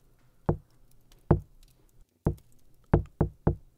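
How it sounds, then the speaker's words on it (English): Knuckles rapping on a car window, six sharp knocks spaced unevenly: two single raps, then a quick cluster of three and a final knock, close and clear against near silence. "He starts to knock on the window."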